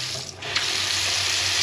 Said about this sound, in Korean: 나쁘지 않은 정도의 물이 나오고요